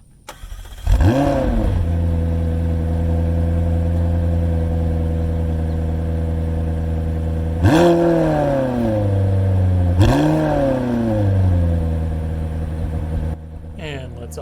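A McLaren 720S Spider supercar engine, heard from outside the car, rumbles steadily and is revved three times, each rev a sharp surge that settles back to a loud idle before a brief quiet end.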